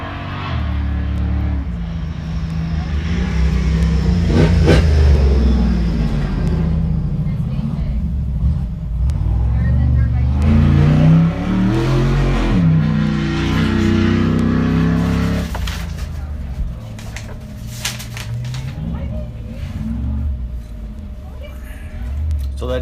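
An Ultra 4 off-road race car at the 2023 Wild West 100 roars past loudly, its rumbling engine swelling and fading across the pass with an outdoor, crowd-like background.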